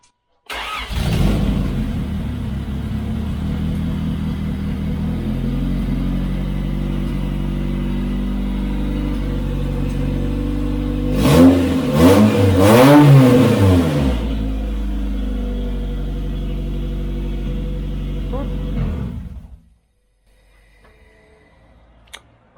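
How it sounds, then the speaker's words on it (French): A freshly cleaned car engine cranks and catches on the starter with no throttle, then settles into a loud, steady idle with a brief surge of revs midway before cutting off abruptly near the end. "Pas d'accélérateur, juste au démarreur."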